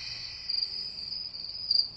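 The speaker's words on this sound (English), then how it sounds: "Crickets chirping." Crickets chirp steadily in a backyard recording played back, a continuous high trilling with slight pulses in loudness and no voices.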